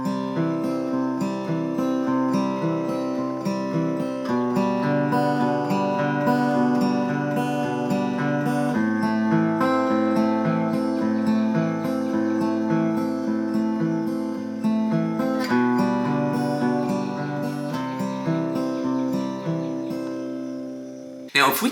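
Travis-style fingerpicked guitar runs through a beginner chord progression at a brisk, slightly sped-up tempo, with a steady alternating bass under ringing treble notes, played continuously and clearly throughout.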